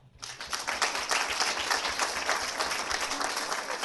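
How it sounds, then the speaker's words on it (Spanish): An audience at an academic presentation bursts into applause that swells quickly and continues as a steady, moderately loud patter of many hands clapping together. "creo que eso merece un aplauso también"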